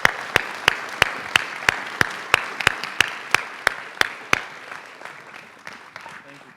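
Audience at a UFO festival talk in a McMenamins venue clapping, with a few loud, sharp claps near the microphone in a steady rhythm over softer crowd applause and speech, fading toward the end.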